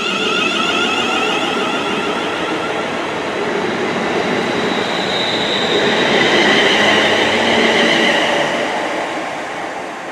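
A West Midlands Railway passenger train rolls steadily along the rails, a continuous rumbling hiss with faint metallic tones, loud and close throughout, swelling slightly midway.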